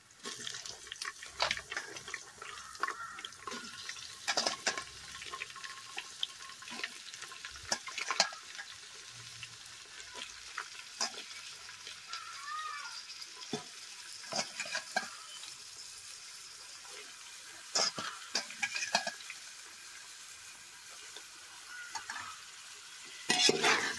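Kohlrabi (haakh monje) cooks in a pan, giving a soft crackling sizzle broken by frequent clinks and scrapes of stirring, with watery splashes now and then, close by and without talk.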